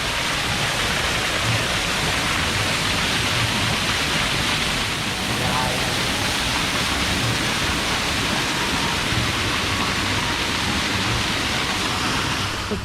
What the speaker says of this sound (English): Oh, look at pretty waterfall.